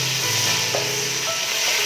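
Garlic sizzling in hot oil for prawn fried rice, a steady close hiss with faint stirring scrapes, heard alone without talk.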